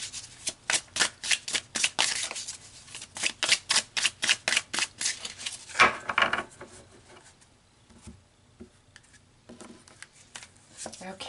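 Tarot cards being shuffled, a rapid run of crisp riffling flutters in bursts that ends in a sharper snap, then quieter handling, with some faint talking.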